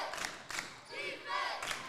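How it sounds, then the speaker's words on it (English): Crowd cheering and shouting in a gym at a Minnesota girls' high school basketball game, Red Lake County Central against Climax/Fisher, with swelling bursts of noise rising and falling around a close contest. "Crowd getting into this one"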